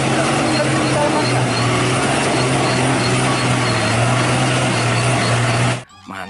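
A long tanker truck rolls by on a road, a loud steady engine rumble with a low drone holding until it cuts off sharply near the end.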